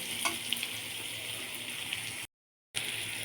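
Chicken pieces with salt sizzle steadily in a frying pan for a chili chicken dish, a continuous close frying hiss with faint scraping of stirring, broken by a brief silent gap before the sizzle resumes.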